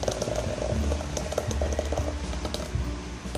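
Homemade almond milk pours steadily through a filter, making a continuous close-up wash of liquid splashing and trickling with no voices.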